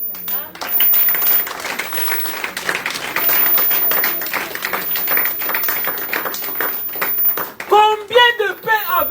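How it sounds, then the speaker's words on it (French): A church congregation applauds loudly with dense, sustained clapping throughout, close and reverberant, with a voice rising briefly near the end. "Acclamons pour Jésus."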